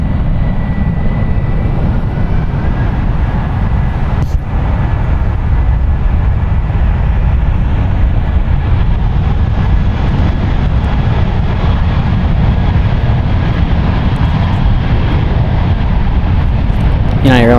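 A 16-year-old United Airlines Airbus A319 takes off from San Francisco International Airport, a steady broad engine roar holding loud and even throughout with low rumble underneath.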